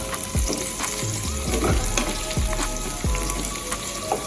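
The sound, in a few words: saltfish frying with onions, sweet and hot peppers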